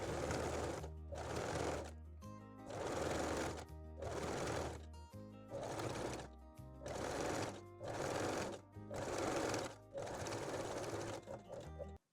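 Domestic sewing machine stitching along the edge of a fabric bra cup, running in repeated close bursts of rapid whirring with short pauses between them, no talking over it.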